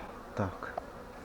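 Honey bees buzz faintly around an opened hive during a beekeeper's inspection, with a short louder drone as one flies past.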